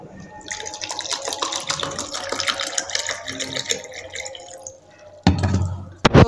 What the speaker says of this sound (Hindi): गिलास और गिलास में पानी हम डाल लेते हैं।